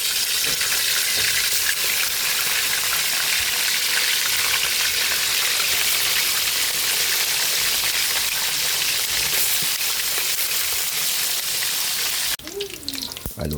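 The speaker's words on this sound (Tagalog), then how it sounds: "Piprito na natin yung ating manok pinakuluan sa patis at kalamansi." Chicken, first boiled in fish sauce and calamansi, fries in hot oil with a loud, steady, hissing sizzle throughout, and a brief voice is heard at the very end.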